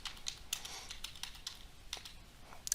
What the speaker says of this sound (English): so I'll type in